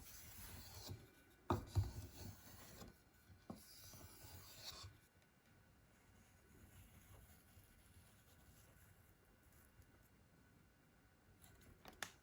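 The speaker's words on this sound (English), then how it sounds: "The skiving process starts by sharpening the skiving knife." A skiving knife for leatherwork is sharpened with quiet, rasping strokes. The strokes come in a scraping burst over the first few seconds, then fade to a faint, softer rubbing.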